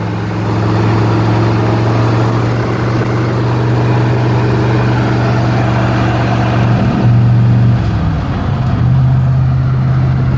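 A Chevrolet Corvette with a Tremec 5-speed conversion and 4.11 rear gear cruising in fourth at 2,500 RPM and 50 mph, its engine holding a loud, steady low drone that dips briefly near the end as it shifts.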